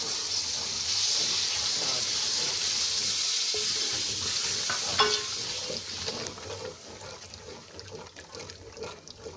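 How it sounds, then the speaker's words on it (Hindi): Beef masala with yogurt stirred and frying in a pot, a steady close sizzle with scraping stir strokes throughout, softening slightly toward the end, with no talking. "अच्छी तरह मैं भून लूँगी इसमें।"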